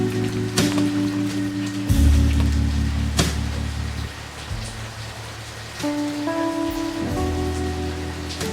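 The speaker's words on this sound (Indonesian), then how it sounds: "Hujan kayak gini mah redanya lama ya." Heavy rain pours steadily onto surfaces, a dense continuous hiss with occasional sharper splashes, heard alongside loud low-pitched music tones that shift throughout, with no voices.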